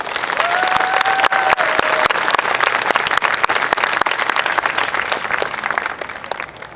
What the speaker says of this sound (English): Let's give them a great round of applause, please.